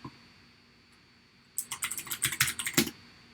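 Someone types a password on a computer keyboard: a quick, close burst of about a dozen clicky keystrokes in an uneven rhythm after a second and a half of near silence, ending with one heavier key press.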